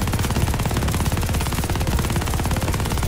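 A big mounted gun in Call of Duty Vanguard firing nonstop, a rapid, heavy, unbroken stream of loud shots filling the whole span, close and with no voices.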